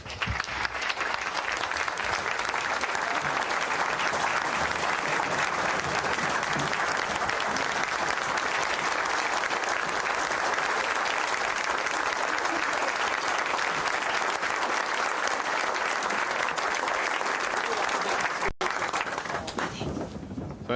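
Sustained, dense applause from a seated civic-awards audience greets the Citizen of the Year, an even wash of clapping that holds for about twenty seconds before tapering off.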